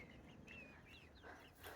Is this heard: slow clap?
no